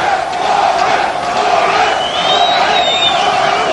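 A large arena crowd at an MMA fight roars and cheers loudly and continuously. The dense, sustained noise carries whoops and yells and swells slightly toward the end.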